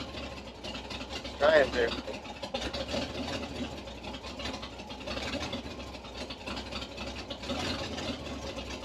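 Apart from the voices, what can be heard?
1978 Chevy K10 engine running and idling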